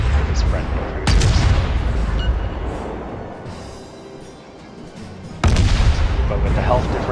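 Naval gunfire in the video game World of Warships, with two heavy booming salvos that roll out into a rumbling tail, loud and close over a constant low battle drone.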